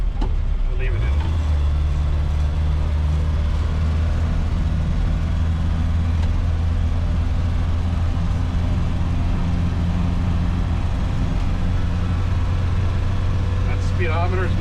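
DeLorean engine running steadily while driving, a low continuous drone with the revs easing down, under faint background noise.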